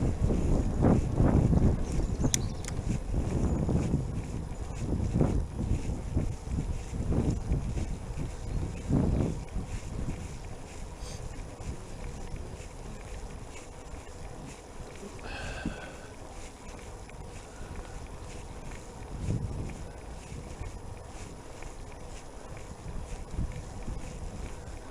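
Gusty wind buffeting the microphone during an e-bike ride on quiet roads through the Lincolnshire Wolds, a steady low rumble with stronger surges early on, close and loud throughout, no talking.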